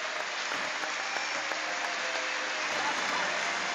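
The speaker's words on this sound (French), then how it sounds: "une très belle image de fin de match avec les deux équipes qui s'applaudissent" Rugby World Cup 2007 match between New Zealand and Portugal at Gerland, Lyon, ending with both teams applauding each other; steady broadband applause from the stadium fills the whole stretch, with faint voices mixed in.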